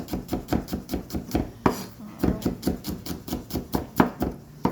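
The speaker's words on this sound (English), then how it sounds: "let's chop it up a little bit" Knife chopping ingredients for seafood pasta on a cutting board, a steady run of sharp, close, evenly spaced strikes with one brief pause midway.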